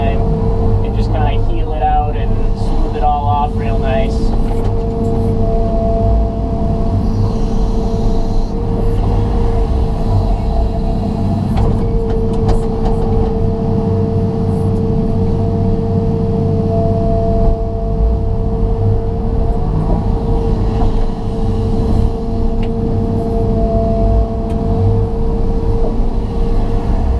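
John Deere 200LC excavator grading a rocky backyard, a loud, steady diesel drone with a constant engine tone running throughout, and a voice heard briefly over it.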